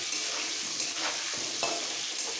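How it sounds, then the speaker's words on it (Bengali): Potato pieces frying in oil dusted with red chilli powder, a continuous close sizzle broken by a few brief scraping stirs of a spatula through the pan. "এবারে আলুগুলোকে একদম ব্রাউন করে, গোল্ডেন ব্রাউন করে ভেজে নিতে হবে"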